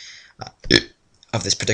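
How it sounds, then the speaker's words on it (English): A single short burp from a man playing the LCS Super Challenge game, abrupt and close, followed by talking. "burp, of this particular strategy"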